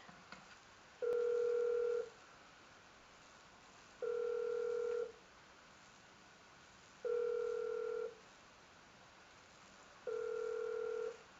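An outgoing phone call rings in the video game GTA V: four evenly spaced ringback tones, each about a second long with roughly two-second gaps, steady and clear over faint background.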